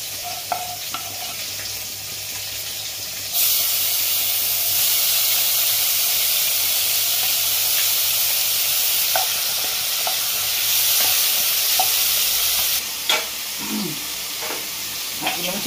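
Vegetable oil sizzles in a wok as a curry of ridge gourd, potato and prawns is started, a loud steady hiss that flares up partway through, with faint stirring scrapes near the end.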